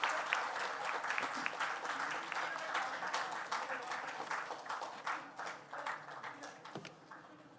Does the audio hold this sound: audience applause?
yes